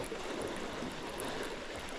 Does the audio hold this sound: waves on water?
yes